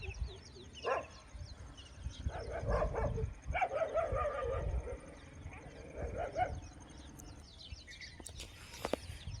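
Dogs barking outdoors at sunset in open countryside, a few scattered barks and yelps rising from the distance amid faint birdsong and quiet ambient noise, with a sharp sound near the end.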